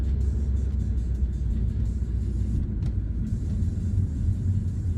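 A car pulling away during a driving road test in Dartmouth, Nova Scotia, heard from inside as a steady low engine and road rumble that stays even and continuous, with no talking.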